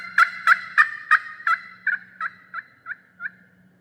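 A tom turkey gobbles about ten times in a steady rhythm, each rattling burst close and clear at first and growing gradually fainter, over a low background hum.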